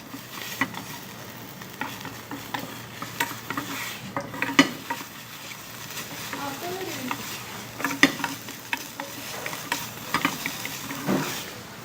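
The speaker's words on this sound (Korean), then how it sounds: "그 다음에 당근도 약간 숨이 죽을 정도로 볶아주셔야 돼요." Carrots and onions stir-fried in a pan, with a continuous soft sizzle and frequent clinks and scrapes of a utensil against the pan across the whole stretch, with no talking.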